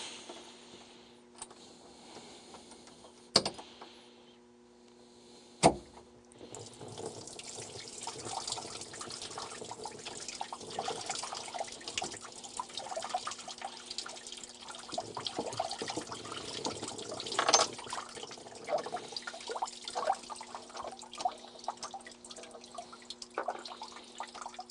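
Water trickling and dripping out of a boat's strainer and filter housing during winterizing, a thin steady flow with a few sharp clicks early on, faint and close.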